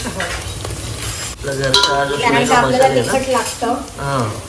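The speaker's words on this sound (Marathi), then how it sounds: "कांदा लालसर वाजून घेतल्यावर थोडी आलं लसूण पेस्ट घालायची" Ginger garlic paste fries with reddened onions in a home kitchen pan, a close sizzle with stirring clatter under a voice talking throughout.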